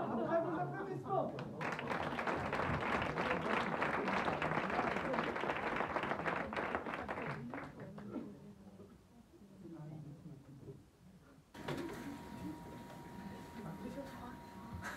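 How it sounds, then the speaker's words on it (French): An audience at an improv comedy show in Brest breaks into sustained applause for several seconds, which fades, followed by a voice speaking over a quieter room. "après vos applaudissements"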